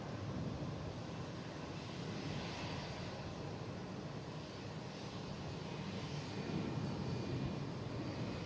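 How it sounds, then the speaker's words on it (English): A JetBlue airliner landing at Boston Logan International Airport, heard as a steady, broad jet engine roar that swells slightly near the end, with wind buffeting the microphone. "The last JetBlue landing."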